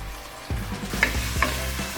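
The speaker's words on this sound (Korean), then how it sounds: "지글지글 끓으면 일단 마늘을 넣어주세요." Garlic sizzles in hot oil in a pan for Korean braised potatoes (gamja jorim), with steady frying hiss and a few scraping stirs of a utensil close by, with no voices.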